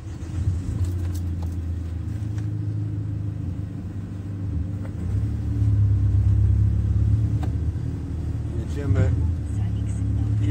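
A car idles and creeps forward in the boarding lanes onto a ferry at Cairnryan, Scotland, bound for Belfast, with a steady low engine rumble, occasional clunks and soft talk over it.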